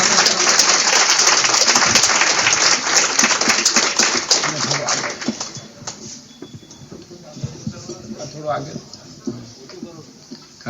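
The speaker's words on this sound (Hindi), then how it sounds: "जोरदार तालियों से आप लोग" Loud, dense applause from a large audience fills an indoor hall during a convention's inaugural ceremony in Dahod, Gujarat, then fades into scattered claps and murmuring voices as the clapping dies down.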